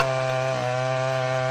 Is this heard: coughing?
no